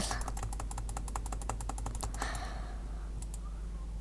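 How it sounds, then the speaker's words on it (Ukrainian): Rapid, crisp computer mouse clicks in quick bursts while someone plays Minecraft, close and fairly quiet over a low background hum, then tapering to a few isolated clicks. "Я думаю, ви чуєте звуки мишки моєї."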